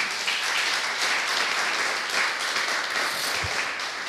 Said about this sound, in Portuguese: aplaudam ao Senhor Jesus.